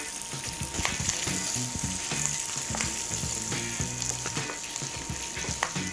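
Sausage and garlic sizzling and frying in a pan, a steady dense crackle with occasional stirring scrapes and pops, close and continuous with no talking.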